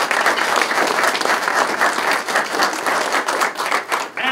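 A room full of people at a reception claps steadily, sustained applause at close range that begins to taper off near the end.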